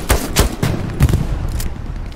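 Hipfire spray in the video game Hell Let Loose: several loud, close gunshot bursts crack in quick succession, followed by a rumbling echo that slowly fades.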